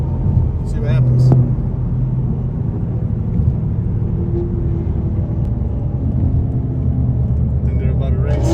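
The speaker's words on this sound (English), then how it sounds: "That C06 sounds insane. It sounds like a Ferrari." A C06 exotic car's engine rumbles low and steady at a car meet, continuous throughout, with people talking nearby over the drone.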